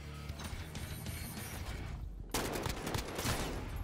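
Gunfire in the video game Call of Duty Modern Warfare: dense, crackling bursts of shots that jump sharply louder partway through, heard alone without speech.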